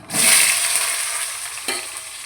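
Potatoes drop into hot oil already seasoned with cumin and dried chili, setting off a loud sudden burst of sizzling that stays strong, then eases slightly, with one brief clatter near the end.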